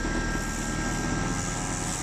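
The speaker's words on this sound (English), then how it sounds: "As you can hear, silent electric engine." A roof cleaning machine's electric engine runs steadily and close, a continuous loud whirring drone with no change in pitch or rhythm and no speech.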